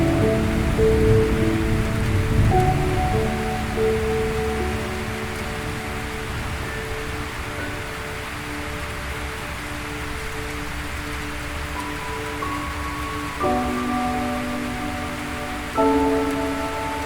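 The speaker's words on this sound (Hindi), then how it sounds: "और मौसम की शुरुआत मूसलाधार बारिश से होती है।" Heavy monsoon downpour in Assam, a steady broadband wash of rain that stays loud and even throughout, with sustained musical tones layered over it.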